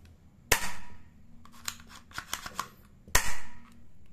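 A pellet BB gun is cocked with two sharp mechanical snaps about two and a half seconds apart, with softer clicks and rattles between them, close and otherwise quiet.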